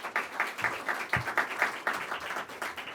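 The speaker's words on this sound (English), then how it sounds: "I was going to say, please give them a round of applause, but you were way ahead of me" A room full of people applauds at the close of a panel on EU-US Arctic cooperation, the clapping moderate in level and fairly steady, heard from within the audience over a few seconds.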